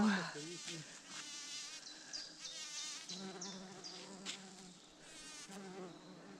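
Bumblebees and bees buzzing in a forest clearing, with several insects droning close and changing pitch as they fly past, and a faint voice in the background.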